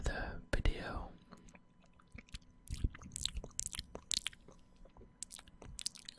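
Close, wet ASMR mouth sounds imitate chewing, with soft crunchy, squishy clicks and smacks in irregular bursts, quiet and intimate, alongside faint whispering near the start.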